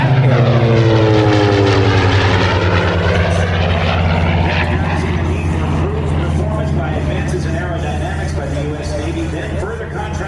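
Radial engine of a Curtiss SBC Helldiver biplane at a joint service open house air show, a loud droning roar that shifts in pitch as the aircraft passes, then fades slightly while continuing steadily.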